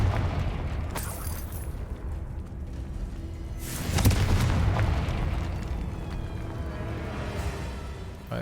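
A Confringo blasting spell goes off in the Hogwarts Legacy video game, a deep booming burst near the middle that swells loudly over a dense, rumbling game ambience and then fades into a sustained low roar.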